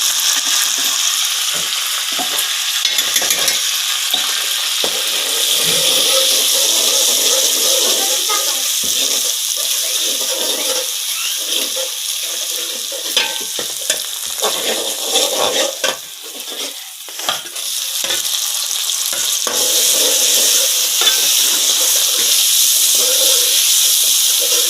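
Ginger garlic paste sizzles and fries with browned onions in a kadai for dal, giving a steady close hiss with occasional stirring scrapes and a voice talking faintly underneath.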